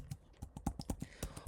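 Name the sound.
typing a password on a Mac keyboard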